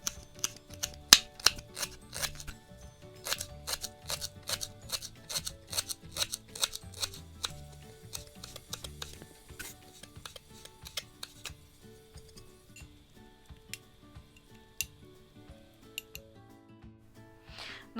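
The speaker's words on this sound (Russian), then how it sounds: "укроп мелко нарезаем ножом" A knife chops dill finely, a close, quick run of crisp taps on the board that goes steady for about eleven seconds, then thins to scattered, sparser cuts.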